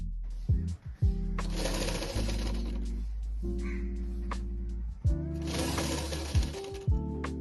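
An electric sewing machine stitches a folded half-inch fabric piping strip in two bursts of busy clattering, with a steady motor hum in the pauses between them. It is close, and no one talks.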